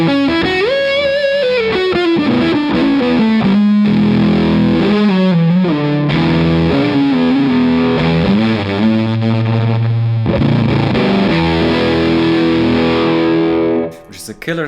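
Electric guitar played through a Tru-Fi Two Face germanium/silicon fuzz pedal, a thick, saturated distorted tone with sustained chords and bending lead phrases, continuous and loud before cutting out near the end.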